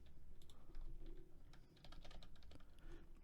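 Quick, uneven bursts of keystrokes as code is typed on a computer keyboard while programming an Arduino, with clicks close up and alone and a brief pause midway.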